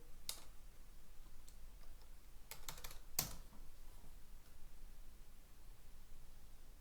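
Scattered keystrokes typing a library search on a computer keyboard, a few quick clicks near the start and a tighter burst around the middle, faint over a steady room hiss with long quiet stretches.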